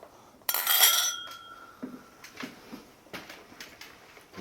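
Whisky tulip glasses clink together in a toast: a bright ringing chime rings out near the start, followed by quieter scattered taps and clinks of glassware at a moderate distance.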